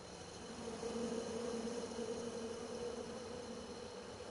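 Angry bees buzzing in the King's Quest video game after a tree full of them is chopped down, a faint steady droning hum holding throughout with no speech.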